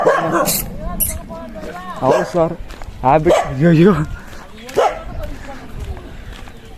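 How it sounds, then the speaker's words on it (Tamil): Dogs bark and yelp in short bursts nearby, mixed with people talking throughout. "இங்கே நாய்களாம் குலைக்குது பயங்கரமாக"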